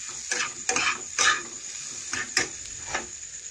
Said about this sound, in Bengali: ভেজে রেখেছিলাম পটল, সেগুলো দিয়ে দিলাম একসাথে, ভালোভাবেই ভেজে নিচ্ছি